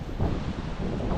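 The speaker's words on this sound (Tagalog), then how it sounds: "Nagagunos yung hangin." Steady wind gusts during a typhoon roar across the microphone, a loud broadband rumble with no speech.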